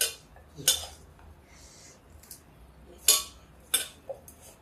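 A few sharp metal-on-bowl clinks ring out as sliced onions are tossed and mixed in a bowl for bread pakoras, spaced irregularly over a quiet background.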